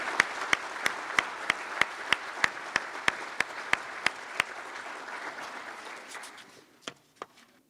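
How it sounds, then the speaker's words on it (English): An audience at a summer soil and water conservation conference applauds the Imhoff farm family, a dense, steady wash of clapping with a few sharp individual claps standing out, tapering off toward the end. "can we please have a round of applause for the Imhoff farm family?"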